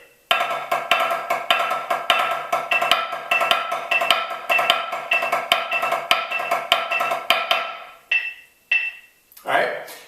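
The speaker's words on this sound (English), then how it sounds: "we play 4 beats of each grouping back to back" A drumline plays a triplet grid with diddles on the downbeats, running four beats of each grouping back to back. Dense, fast snare strokes with regular accents continue for about eight seconds, then stop into a few short bursts.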